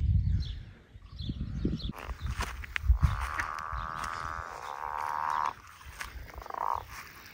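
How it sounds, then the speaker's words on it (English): Near Limestone Island across from Whangārei, a frog croaks in a sustained, rattling call lasting several seconds, close and fairly clear over quiet outdoor background noise and faint rustling. "I think it's a frog."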